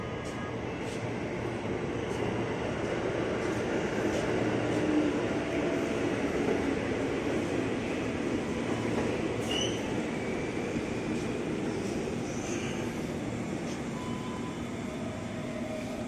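Eight-car commuter train rumbling at Depok Baru station, a steady loud roar of wheels and cars with faint metallic squeals.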